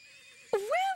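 A horse whinnies loudly in a straw-filled stable, a rising and falling neigh breaking out halfway through after a quieter stretch of low background sound.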